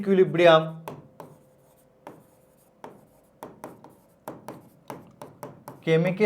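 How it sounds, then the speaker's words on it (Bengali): Chalk or marker writing on a board during a chemistry lecture, a series of short scratchy strokes in uneven bursts, with a lecturer speaking at the start and end. "বা আমি ইংলিশে লিখে দিচ্ছি"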